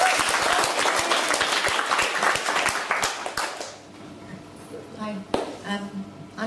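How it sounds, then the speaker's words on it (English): An audience applauds, dense clapping for about three seconds that then fades out as a voice begins speaking. "So if you give her a big round of applause first."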